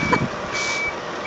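A lorry turning around in a tight gateway sounds steady high reversing beeps over a low rumbling diesel engine, heard fairly close and continuous throughout.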